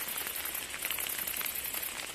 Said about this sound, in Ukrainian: міняється погода йде дощ